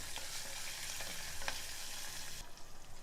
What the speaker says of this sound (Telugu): ఒక పావు చెంచా అల్లం వెల్లుల్లి పేస్ట్, ఇది 1 నిమిషం వేగనివ్వాలి